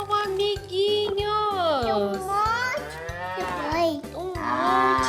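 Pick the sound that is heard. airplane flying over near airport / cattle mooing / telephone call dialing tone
cattle mooing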